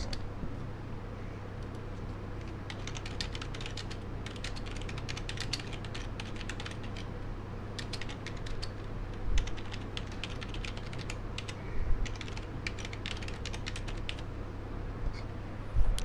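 Steady computer-keyboard typing, rapid light key clicks in uneven runs over a constant low hum of a fan, with a few louder key taps near the end.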